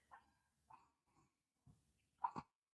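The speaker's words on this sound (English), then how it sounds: "I don't know if you guys can hear the dogs barking," Dogs barking in the distance, a handful of faint, separate barks spread out with quiet gaps between them.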